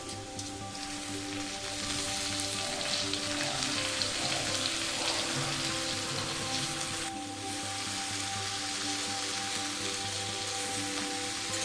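Lettuce leaves fry with potatoes in a pan, giving a steady, rain-like sizzle and crackle that holds evenly throughout, with a faint background hum underneath.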